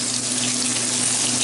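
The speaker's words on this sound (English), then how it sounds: "we're going to fry some thin pieces of Spam for it" Thin slices of Spam frying in a pan with a little oil, a steady close hiss and sizzle with a low hum underneath.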